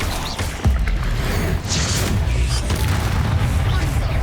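Combat spells fire in Hogwarts Legacy, a steady barrage of booming blasts and crackling magical impacts layered over dense battle noise, with a spoken voice woven through the loud, continuous fight.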